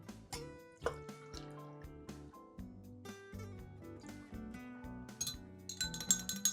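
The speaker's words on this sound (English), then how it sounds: "Let's give that a quick stir." A spoon clinks repeatedly against a glass while stirring a hot apple cider cocktail made with lemon juice, light rhythmic chimes and tinkles ringing close and clear, with no talking.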